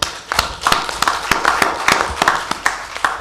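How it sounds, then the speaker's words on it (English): At a bank's annual general meeting, a modest group of shareholders claps, distinct individual hand claps in a loose rapid rhythm, close and fairly loud rather than a dense roar. "we should clap for them"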